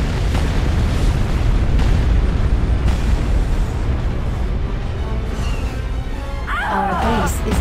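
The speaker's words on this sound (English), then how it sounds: "Bombardment incoming." Continuous heavy rumbling bombardment blasts in the Star Wars Republic at War strategy game, a dense loud barrage of booms with a brief voice-like radio chatter near the end.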